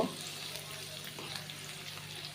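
Onions frying in oil in a pan, a soft, steady sizzle and crackle, quiet and close, with no talk over it.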